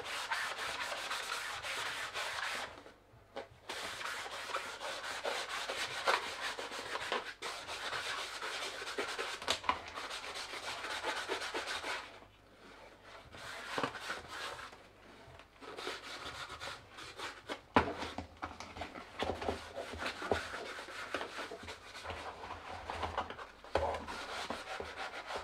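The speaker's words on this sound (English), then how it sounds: "So I'm also going to go over it with this magic eraser, just to get even more now that I got the worst of it." A magic eraser scrubs over the case of an old AM travel radio, producing steady, close, quiet rubbing strokes with brief pauses between passes.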